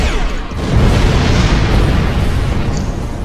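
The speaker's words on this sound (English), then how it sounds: "Photon Torpedo." A photon torpedo blast in the space game Star Trek Online: a loud, deep boom that swells and rolls on for a few seconds before easing off.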